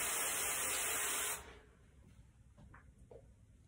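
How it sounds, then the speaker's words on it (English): Hairspray sprayed over a ballet bun in a hairnet, one steady close hiss lasting over a second before cutting off, followed by a few faint light rustles. "I like to spray the actual bun part"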